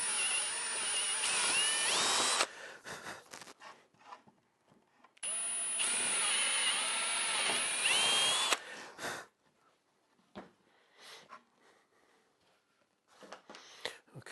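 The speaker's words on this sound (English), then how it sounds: "now I can drill my through holes" A power drill whines loudly in two sustained bursts of a few seconds each, drilling through holes in a wooden bandsaw log-milling jig, separated by quiet pauses with small clicks and handling noises.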